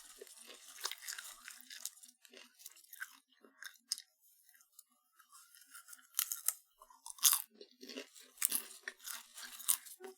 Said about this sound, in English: Dude, I'm gonna be munching on this popcorn for like me when I'm stalling.